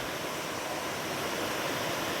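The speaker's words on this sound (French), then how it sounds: "Où il y a cette petite cascade là." Small waterfall at the Trou de Bozouls in Aveyron, a steady broadband rush of falling water, close and constant with no voices.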